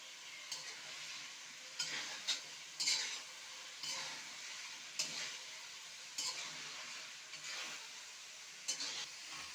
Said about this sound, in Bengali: মাছটা কিন্তু আমি এই মশলার সঙ্গে বেশ কিছুক্ষণ একটু কষিয়ে নেব